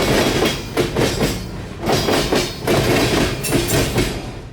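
Amtrak passenger train crossing a rail diamond near Tampa Bay, loud and close, with rhythmic clickety-clack of wheels over the crossing repeating in heavy bursts.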